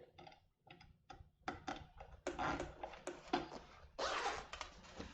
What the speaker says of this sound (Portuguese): abro meu zíper